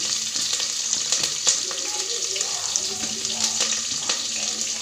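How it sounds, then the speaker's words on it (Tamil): Onion, curry leaves, green chilli, cinnamon and cardamom sauté in a pan, giving a steady close sizzle throughout with faint stirring scrapes, no voice over it. "பட்டை ஏலக்காய் போட்டுக்கிட்டேன், வெங்காயம், கருவேப்பில, ஒரு பச்சை மிளகாய், இதெல்லாம் போட்டு நல்லா வதக்கிக்கிடலாம்."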